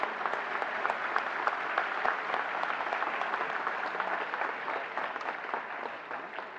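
Steady, dense applause from a large audience at a national handicraft award ceremony, continuous and even for several seconds before easing slightly at the end, with no talk over it.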